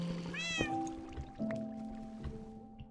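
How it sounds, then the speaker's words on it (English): Near the start of a Minecraft session, a cat gives a clear, close meow in-game, followed by a few more drawn-out tonal cat cries and faint trickling sounds. "Oh, that meow means there's a wither witch nearby."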